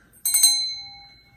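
A small altar bell is struck close by, giving a quick double ring with bright overtones that fade out over about a second.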